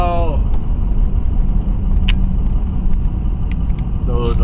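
A car engine drives along a road past buffalo in Alaska, a loud steady low rumble with road noise and a couple of brief sharp ticks, while a rising whine sweeps in at the start and end.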